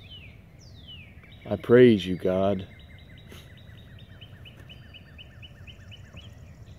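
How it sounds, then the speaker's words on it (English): Birds singing outdoors: thin, repeated chirps and trilled calls carry steadily through the clip at a modest distance, while a person briefly speaks over them near the start. "sometimes I just like to sit here and just listen to the birds"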